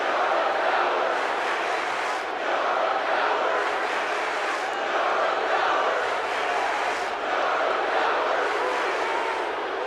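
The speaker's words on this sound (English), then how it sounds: "He's getting showered in boos" A large arena crowd in the WWE 2K18 wrestling video game boos continuously, a dense roar of jeering voices that swells and dips in waves, loud and sustained.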